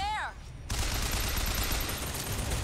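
Gatling gun fire in the video game Bioshock Infinite, a dense, continuous roar of rapid shots that starts abruptly after a short whistling tone and holds steady at loud level.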